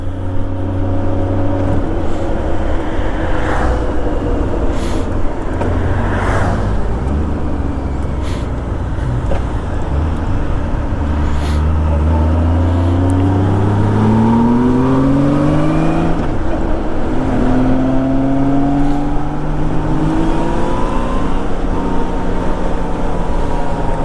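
A 1998 Honda Goldwing SE motorcycle engine revs up and drops repeatedly as the rider shifts through several gears, loud and steady with rising pitch sweeps between each change.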